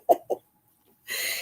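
Pet rooster Sonny gives two short, close clucks or croaks, then after a pause a loud, breathy, sustained rasping call begins and carries on to the end.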